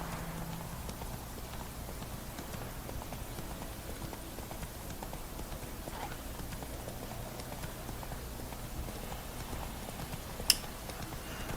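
Hooves of Roach, Geralt's horse in The Witcher 3: Wild Hunt, clip-clop in a steady trotting rhythm across the whole stretch, moderately loud over a low background hum, with one sharp click near the end.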